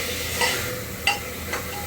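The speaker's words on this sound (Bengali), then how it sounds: "এগুলো ভাজা হচ্ছে" Marinated chicken fries in a pan with a constant close sizzle, broken by three brief scrapes of a stirring spoon.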